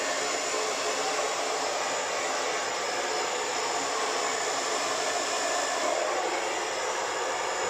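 A hair dryer blows steadily and loudly across wet acrylic pour paint, a continuous even roar with no pauses and no voices.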